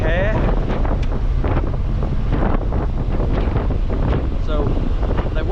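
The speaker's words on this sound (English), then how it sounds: "driving in the shadows with the wind blowing through your grey hair" Steady rushing wind buffets the microphone throughout, a loud, continuous roar with gusty fluctuations, as air streams past an open-top supercharged MGB while driving.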